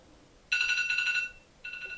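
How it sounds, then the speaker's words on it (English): A timer alarm rings with a bright electronic tone, one long burst of about three quarters of a second, a short pause, then a second burst starting, heard clearly over a quiet room. "And that's my timer."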